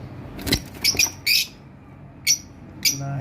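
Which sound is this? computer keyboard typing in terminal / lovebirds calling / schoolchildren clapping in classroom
lovebirds calling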